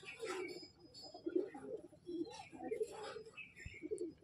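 An aggressive Andhra pigeon held in the hand gives repeated low coos in short bursts, close by, with fluttering and rustling between them.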